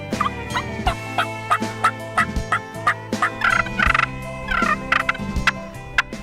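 A wild turkey gobbles repeatedly and loudly up close, its rattling calls coming in quick bursts with brief pauses between them.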